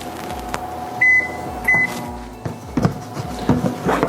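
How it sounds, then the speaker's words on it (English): A microwave oven hums steadily while warming food, with two short beeps early on and a few soft clunks and knocks near the end, close by and with no talk. "So now we're gonna throw this in the microwave here."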